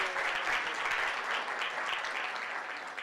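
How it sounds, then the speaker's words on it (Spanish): Audience applause at a training session, a dense wash of many hands clapping at a steady, fairly loud level throughout, with no talking over it. "Entonces un aplauso a todos los que vinieron del noroeste del país."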